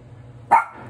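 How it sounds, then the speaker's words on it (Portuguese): A single short dog bark rings out nearby over a low steady hum, then fades quickly. "O que você tá latindo lá"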